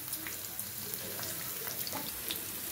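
Onions and curry leaves fry in a pan, giving a steady, close crackling sizzle with small pops scattered throughout.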